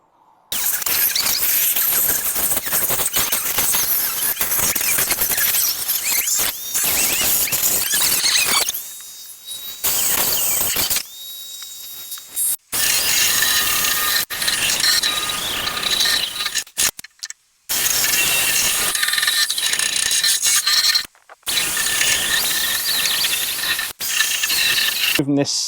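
A drill spinning a firm, coarse Scotch pad rust-removal wheel grinds rust off an Alfa Romeo GTV body during restoration, a loud continuous whirring scrape broken by several short pauses.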